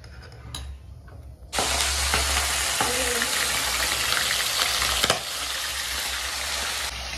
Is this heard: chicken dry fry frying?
yes